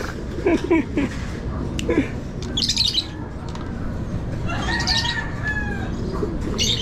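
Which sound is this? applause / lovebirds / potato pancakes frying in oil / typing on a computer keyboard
lovebirds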